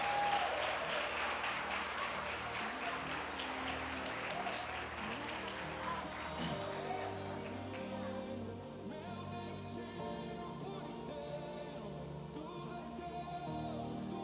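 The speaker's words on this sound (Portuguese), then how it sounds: "Pode aplaudir a Jesus mais forte." Church congregation applauding steadily for about fourteen seconds, a dense wash of clapping at fairly even strength, with music sustained underneath throughout.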